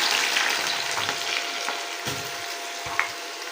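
Three to four sliced medium onions frying in hot oil, a loud continuous sizzle with a few brief stirring bumps.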